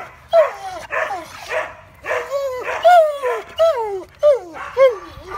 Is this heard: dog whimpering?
yes